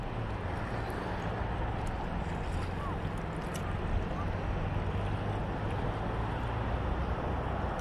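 A small fishing boat rocks on rough, choppy sea, with constant loud rushing wind and water noise and a low engine-like drone running underneath.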